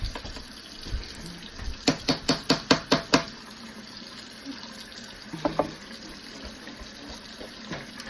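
Tap water runs steadily while makeup brushes are rinsed, with a quick rhythmic run of swishing, tapping strokes in the middle and a few fainter ones later, close and with no voices.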